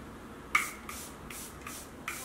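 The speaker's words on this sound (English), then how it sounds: "I'm going to go in with my setting spray" Five short bursts of Charlotte Tilbury makeup setting spray in quick succession, each a soft hiss, quiet and close.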